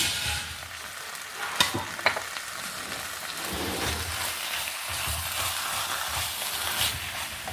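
Malabar spinach palya stir-frying in a pan with a steady broadband sizzle and a few sharp clicks of stirring, close and continuous with no talk.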